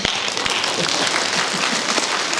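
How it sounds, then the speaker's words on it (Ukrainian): An audience applauding an evening stage performance in Truskavets, a continuous wash of many hands clapping at moderate loudness, with a couple of sharper claps standing out near the start. "Мені аплодують."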